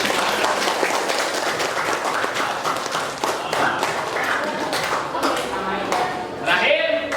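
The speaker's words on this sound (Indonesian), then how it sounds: "Tepuk tangan untuk kalian semua." Students in a classroom clap together for several seconds, a busy, fairly loud patter of hands, with voices mixed in near the end.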